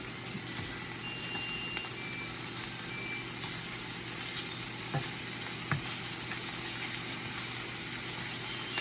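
Steady, crackling sizzle of shrimp and scallops frying in a hot pan, continuous and close, with a few faint clicks and no voices.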